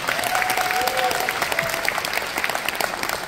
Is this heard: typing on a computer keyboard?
no